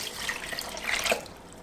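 Water poured into a cooking pot, one liter added over barley for egg soup, a steady splashing and trickling pour lasting under two seconds, close and fairly quiet with no talk.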